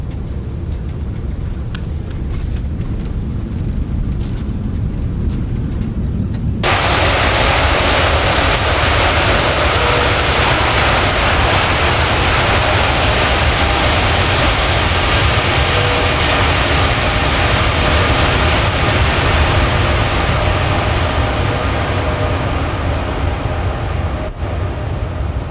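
Steady, loud roar of a Boeing 747-8's engines in X-Plane 12 as the thrust reversers idle and stow after landing. A broad, wind-like rush swells abruptly and holds without letup, brightening slightly near the end.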